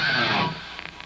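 Guitar pick slide done badly, a harsh scraping rasp that fades after about half a second, followed by a few faint clicks.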